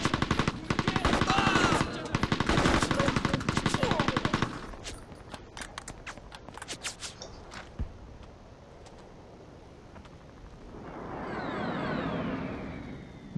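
A mounted machine gun in the video game Mercenaries: Playground of Destruction fires loud, rapid sustained bursts for several seconds, followed by scattered single shots and a rising engine-like rumble.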